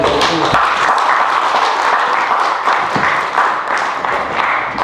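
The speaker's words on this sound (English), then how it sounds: "can you please come up and greet him with a round of applause?" An audience at a Junior Optimist Club convention gives a round of applause, steady dense clapping that runs loud throughout with a faint murmur of the crowd.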